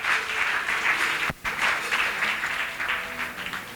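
A church congregation applauds steadily, a dense wash of many hands clapping close and loud, briefly dropping out for a moment before resuming and continuing to the end.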